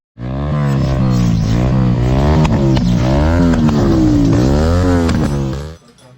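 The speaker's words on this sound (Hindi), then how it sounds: "और एग्जॉस्ट का साउंड तो नेक्स्ट लेवल है" A Bajaj Pulsar NS 200 motorcycle with a loud aftermarket SC Project exhaust revs up and holds high, its deep throaty roar rising and falling steadily, close by with no talking.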